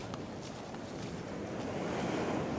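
Surf washing onto a beach where someone is fishing, a steady broadband rush of breaking waves with wind noise on the microphone, continuous and fairly loud throughout with no talk.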